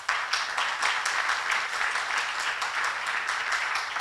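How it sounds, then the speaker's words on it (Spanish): An audience at a book presentation applauds a former production minister: even, continuous clapping from a crowd heard at moderate distance, fairly soft and steady throughout without a clear start or finish. "Aplauso para Vasco, primer ministro de la producción."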